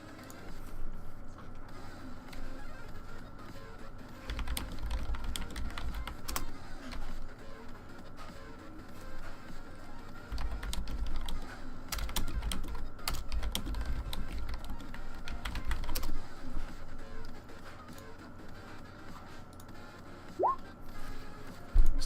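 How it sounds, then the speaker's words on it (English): Fingers type on a new laptop keyboard in continuous bursts of soft, quick clicks, with brief pauses between runs, close and fairly quiet. "Still getting used to the new laptop keyboard."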